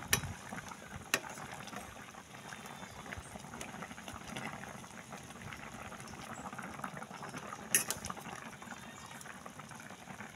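A pan of chicken adobo sauce simmers and thickens, giving a steady bubbling fizz with occasional sharper pops, heard alone.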